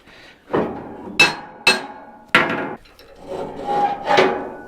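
Hammer blows on the metal of an equipment trailer under renovation: five or six sharp, loud strikes at irregular intervals, each with a ringing decay, close by with no talk.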